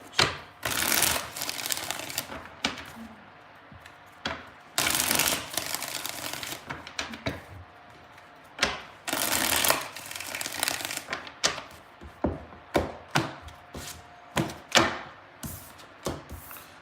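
A deck of tarot cards is shuffled by hand in repeated bursts of riffling and snapping, close and crisp, with the later shuffles coming as shorter, evenly spaced flurries.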